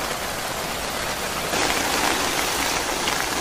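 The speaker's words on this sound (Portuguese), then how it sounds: "Muita chuva no meio do mato." Heavy rain pours through woodland near Raposa, Maranhão, a dense continuous hiss of drops on leaves and surfaces that swells louder midway, with no voices.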